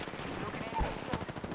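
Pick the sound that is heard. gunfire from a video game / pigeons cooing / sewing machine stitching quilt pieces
gunfire from a video game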